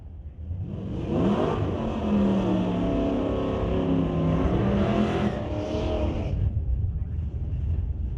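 Drag race cars, a Ritchie Racing Engines Chevrolet Nova and an SS Motorsports Chevrolet S10 at an ET bracket race, launch with a loud, sustained engine roar that rises in pitch and fades slightly as they pull away.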